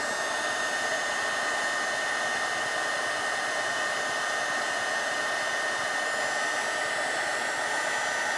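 A heat gun blows a steady, unbroken whir for several seconds while it melts a connector band on the blinker wiring of a Honda Pioneer 1000 side-by-side; no one speaks.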